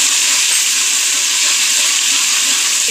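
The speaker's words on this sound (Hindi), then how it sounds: "अब इसमें मैं लहसुन अदरक का पेस्ट डाल रही हूँ" Garlic ginger paste hitting fried onions in hot oil for mutton paya, a loud, dense, steady hiss of sizzling that holds without a break throughout, close up and with no voices.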